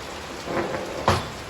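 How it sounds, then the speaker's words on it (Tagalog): Steady rain hisses throughout, broken by a soft rumble and then a sharper, louder crack of thunder near the end. "lakas ng ulan dito sa labas"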